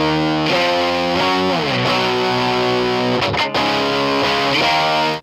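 Crunchy distorted electric guitar plays a short riff of bending, sliding chords, thick and saturated through a Polytone cabinet simulator.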